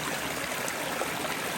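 Mountain spring water flows steadily beside a backpacking trail in New Hampshire's Presidential Range as a flask is filled, a close, continuous rushing trickle with no talk.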